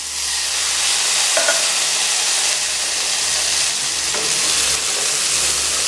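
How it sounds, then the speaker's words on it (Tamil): Drained white chickpeas hit a tempering of halved dried red chillies in a pan, setting off a loud, constant hissing sizzle with a couple of faint stirring scrapes underneath. "நாம் வடிகட்டி வச்சுருந்த கடலை இதில் சேர்க்கலாம்."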